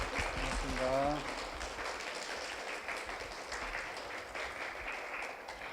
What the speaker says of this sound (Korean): 여러분 박수 한번 주실까요?